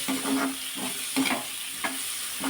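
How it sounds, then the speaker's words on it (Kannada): Finely chopped onions frying in a pan, a constant close sizzle with regular scraping stirs about every half second, and no voices over it. "ಈ ಥರ ಇದು ಚೆನ್ನಾಗಿ ಈಗ ಫ್ರೈ ಆಗಬೇಕು ನಮಗೆ."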